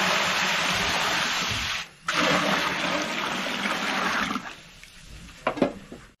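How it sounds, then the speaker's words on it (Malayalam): Water is poured over ginger and garlic while preparing dum biryani masala, a steady gushing, splashing pour that briefly pauses, then resumes and trails off into a few clinking splashes. "അതിന് വെള്ളം ഒഴിച്ചെടുക്കാൻ പോണത്."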